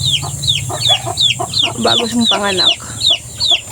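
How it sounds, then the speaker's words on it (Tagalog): Repeated hen clucks and short squawks in a steady rhythm, fairly close, mixed with someone talking over them. "Ayan, dami namin manok."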